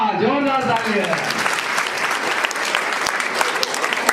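Loud, dense applause fills a women's gathering at a community event, with a voice briefly heard over the start before the clapping carries on steadily throughout.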